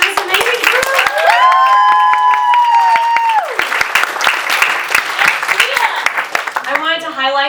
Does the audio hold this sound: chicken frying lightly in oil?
no